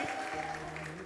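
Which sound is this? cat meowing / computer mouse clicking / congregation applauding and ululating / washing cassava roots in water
congregation applauding and ululating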